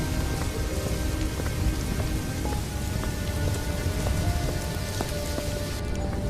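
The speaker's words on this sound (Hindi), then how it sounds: "रास्ते में बहुत जोरों से बारिश शुरू हो जाती है" Heavy rain pours steadily and loudly, a dense, even hiss of drops that fills the whole stretch as a storm sound effect, with no voices.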